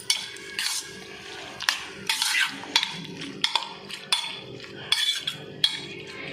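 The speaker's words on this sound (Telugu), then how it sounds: "ఇందులో మనం కొంచెం పసుపు వేసుకుని మిక్స్ చేసుకోవాలి." Washed prawns being mixed with turmeric in a bowl, a string of close, uneven clinks and scrapes of a utensil against the bowl, spaced about half a second apart with short pauses between.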